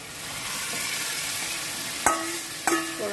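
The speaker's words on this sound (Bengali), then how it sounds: "এবার আমি সবজিগুলো দিয়ে দেবো।" Vegetables frying and sizzling in a hot pan, a continuous close hiss with two sharp clatters of a utensil against the pan near the end, no talking.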